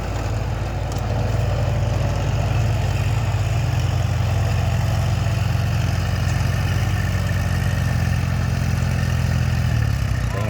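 A Kubota L3608 tractor engine runs steadily in a paddy field during dry-seeding rice tillage, a loud, continuous low diesel drone with no talk over it.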